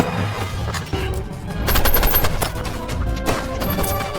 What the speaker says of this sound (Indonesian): dengan pistol andalannya Jim berhasil menghentikan pergerakan mereka